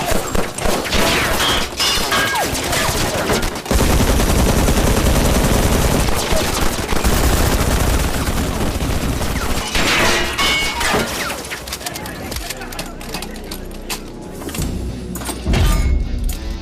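Sustained, loud bursts of machine gun fire from a Hindi action film, rapid continuous rattling with a short break and fading toward the end.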